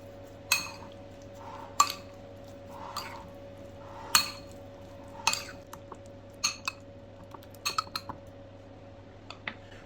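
A utensil clinks and scrapes against a bowl while chicken is mixed into a soy sauce and paprika marinade, giving sharp, irregular taps spread over several seconds with a quiet background hum.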